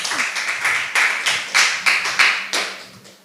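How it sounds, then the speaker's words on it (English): A small audience at a school spelling bee gives a short burst of applause, a handful of distinct, sharp claps in an uneven rhythm that trails off. "A round of applause for Joseph."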